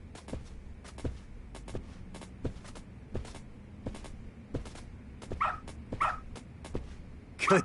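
A dog in the video game Lost Judgment giving a series of short, sharp barks and yips at a steady, repeated pace, with a few higher whimpering cries near the end over a low game background, and no talking.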